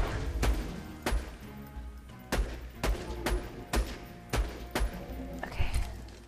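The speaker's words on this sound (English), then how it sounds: "Oh, he is shooting stuff at me." Enemy gunfire in the video game Borderlands 2 comes as repeated heavy shot impacts and thuds, irregularly spaced across several seconds over a busy game soundscape, fairly loud and close.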